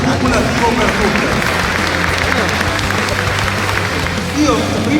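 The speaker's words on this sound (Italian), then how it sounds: "facciamo un applauso cumulativo per tutte" Sustained applause from a crowd at a Miss Italia Veneto pageant selection at the Padova trade fair, dense clapping with cheers and murmuring, loud and steady throughout, with voices chattering beneath.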